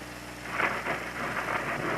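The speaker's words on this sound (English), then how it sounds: "The skies over Bristol had threatened rain all day, and it finally came." Rain falls on a drag race track in Bristol, a steady wash of hiss with faint rumbling underneath, moderately loud and continuous for a couple of seconds.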